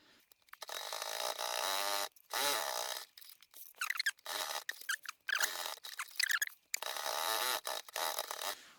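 A sewing machine runs in bursts of steady mechanical whirring, stitching a seam through old denim jeans, with short pauses between runs.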